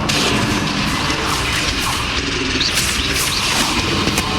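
Spell explosions and blasts from combat in the Hogwarts Legacy video game, a dense, loud wash of booming, crackling impacts layered continuously throughout, with no talk.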